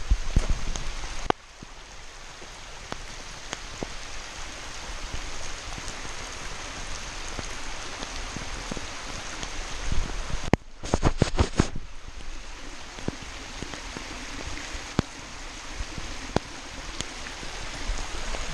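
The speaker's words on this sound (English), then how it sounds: "we're getting a decent downpour." Heavy rain pours down steadily on a farm, a dense continuous hiss of drops hitting surfaces with runoff water, broken by a few brief handling knocks and no talk.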